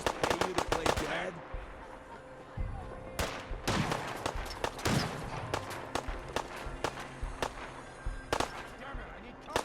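Gunfire crackles in Fallout 4 in rapid automatic bursts and single sharp shots, loud and close. Bursts cluster at the start and middle, with a voice speaking between the shots.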